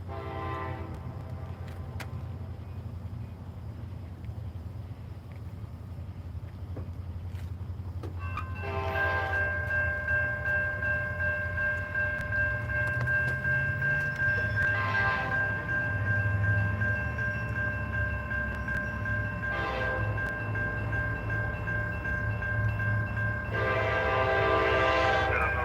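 A CSX freight train rumbles steadily past a trackside spot in Dalton, Georgia, with a loud multi-tone horn sounding in several long blasts over the continuous rail noise, close and strong.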